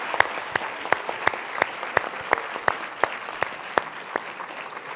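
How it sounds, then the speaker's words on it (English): An audience claps after a panel of three speakers, a sparse round of distinct, evenly spaced claps at moderate volume in a room. "so we give them a round of applause"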